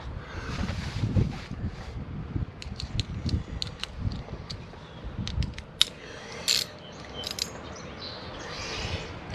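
A ratchet snugs down an ignition coil on a V-twin engine, with a run of quick clicks close to the microphone and short gaps between them, over a faint background hiss.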